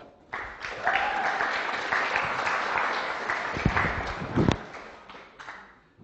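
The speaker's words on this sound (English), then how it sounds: "Round of applause for Mike." Applause from an audience at a university science information session rises quickly and holds steady for several seconds, then thins out and fades, with a few louder claps near the end.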